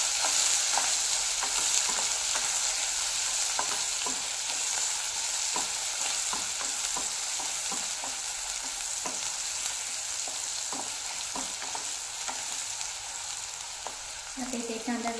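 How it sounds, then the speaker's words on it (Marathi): Onion frying on high flame in a pan with salt and red chilli masala, a steady sizzle broken by repeated scraping stirs from a spatula, close and continuous with no talking. "आता व्यवस्थित कांदा भाजून घ्यायचा आहे"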